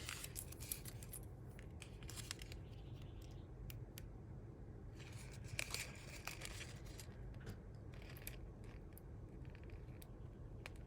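Scissors snipping away the backing from a piece of washi tape at a craft table: faint, close, intermittent crisp cuts and paper crinkles over a quiet steady room hiss.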